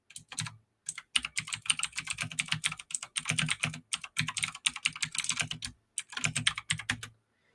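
Typing on a computer keyboard in rapid bursts of close, crisp key clicks, with a few short pauses between runs and no talking.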